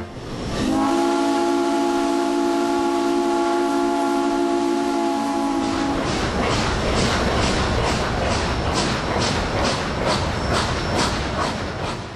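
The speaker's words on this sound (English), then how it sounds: "This steam engine was built back in" A Frisco steam locomotive sounds its steam whistle in a loud, steady, harmonic blast for about five seconds, then breaks into a rapid, even rhythm of chuffing exhaust beats with hissing steam, close and continuous.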